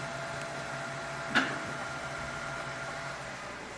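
A projector-type device in normal mode runs with a steady fan whir, a constant hiss-like drone throughout, broken once by a short sharp click.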